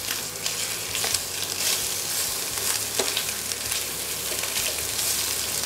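Two eggs fry with ventrèche pork belly in a pan, a dense continuous sizzle and crackle heard up close, with occasional stirring or scraping.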